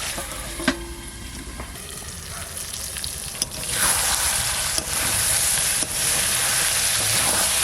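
Chicken curry sizzles in oil in a pan, a steady close hiss that swells louder about halfway through with a few sharp crackles and clicks of handling.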